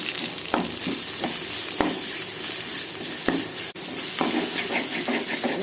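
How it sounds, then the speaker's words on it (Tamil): A spoonful of ginger garlic paste sizzles and fries with onions and curry leaves in a hot pan, a steady loud hiss broken by occasional stirring clicks. "இஞ்சி பூண்டு பேஸ்ட்டு ஒரு ஸ்பூன் போடுறேன்"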